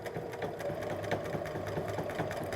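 A sewing machine runs steadily while stitching the lining of a simple A-line skirt, a close, continuous rapid whirring chatter of the needle at even speed.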